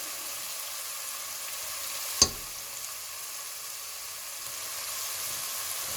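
Steady close sizzle of paprika, black pepper and garlic frying in a pan for lasagne, with one brief sharp tap partway through.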